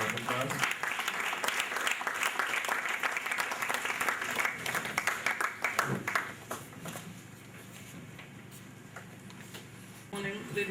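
Audience clapping at a school reading event in Nigeria, a full burst of many hands that runs loud for about six seconds, then thins to a quieter patter, with a voice near the start.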